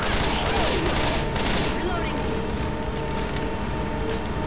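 Dense automatic gunfire in Left 4 Dead co-op play, a continuous loud fusillade of rapid shots filling the whole stretch.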